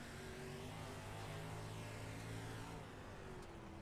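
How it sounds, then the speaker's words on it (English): Steady engine drone heard from inside a race car, with sustained harmonic tones that rise and fall as the throttle is worked, loud and continuous. "You can hear him working the throttle inside the cockpit."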